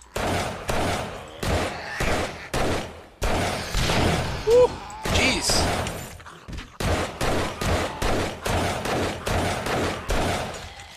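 Gunfire in the video game 7 Days to Die, a long series of loud rapid shots in bursts with short gaps and a few heavier impacts, while a player briefly speaks over it.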